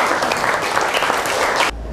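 A roomful of junior high school students at SMPN 11 Madiun claps together in a classroom, a dense, steady burst of applause lasting under two seconds before it cuts off abruptly.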